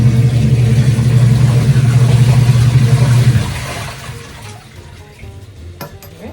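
A tap runs strongly with a steady rushing flow, then is shut off partway through, leaving only quiet room sound and a few small knocks.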